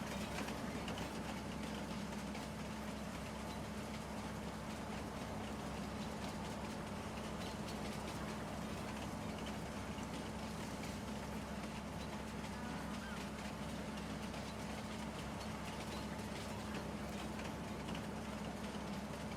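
A rideable train runs in Farming Simulator 19, producing a steady, unchanging engine drone and rolling rumble that holds at an even level throughout.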